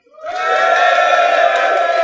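A live audience at a cycling event cheers loudly, swelling quickly into a sustained roar of voices and whoops that holds steady at close range.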